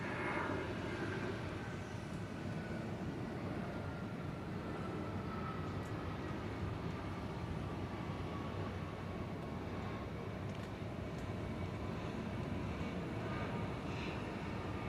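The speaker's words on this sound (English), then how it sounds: "the next thing we see is going to be the 757 slowing to a halt" A Boeing 757 slows to a halt on a wet runway at Atlanta, a distant, steady low roar of engines with a faint whine, continuous and unchanging throughout.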